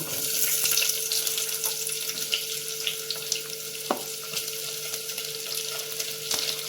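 Onions fry for chicken pulao, a steady bright sizzle from the pan filling the background, with occasional clinks and knocks of a utensil against the cookware.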